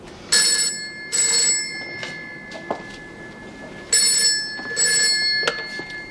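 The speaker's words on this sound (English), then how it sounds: "Susie, thank heavens you rang" An indoor telephone rings in paired bursts, two double rings with short pauses between them, loud and close with no talking.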